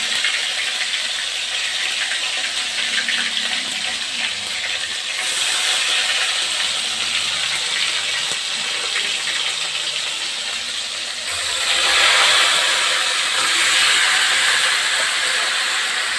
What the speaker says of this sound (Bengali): তেলটা গরম হয়ে গেছে এবারে চিকেনগুলো দিয়ে দিতে হবে